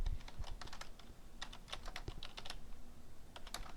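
Typing on a computer keyboard while entering a title into an Excel 2010 spreadsheet, with steady rapid keystrokes close up and continuous throughout, no talking.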